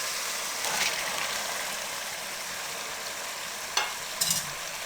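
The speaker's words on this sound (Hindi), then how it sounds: "अब मीडियम फ्लेम पे 2 से 3 मिनट इसकी हम फिर भुनाई करेंगे।" Masala with boiled chana dal frying in cooking oil in a pan over a medium flame, a dense continuous sizzle with a few sharp scrapes and taps of a spoon stirring near the end.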